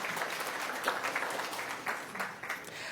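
Steady audience applause at a school district board meeting honoring student scholars, many hands clapping evenly at moderate volume with no voices over it.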